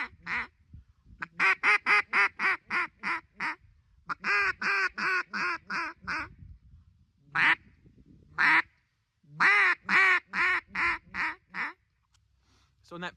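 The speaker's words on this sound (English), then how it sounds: "Now you can actually combine that into patterns, which sounds a little bit like this." A hand-blown duck call sounds quack patterns: loud, close runs of short, clipped quacks in rapid rhythmic series, grouped in bursts separated by brief pauses, with a few isolated single quacks.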